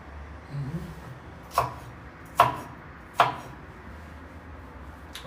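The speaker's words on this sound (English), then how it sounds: "I'm going to chop out this one." A knife chops vegetables on a board: three sharp, close thuds spaced under a second apart, after a softer rustle of handling, with quiet kitchen background and no talk.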